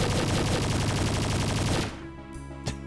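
Rapid, sustained pistol gunfire from the video game Romero Core, a dense loud stream of shots for about two seconds, then dying down with one last sharp shot alone.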